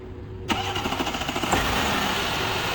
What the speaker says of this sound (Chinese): 启动，